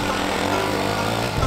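A motorbike engine runs close by on a New Zealand hunting trip in winter, a rough, buzzing drone that holds steady, then shifts in pitch near the end, with no talking.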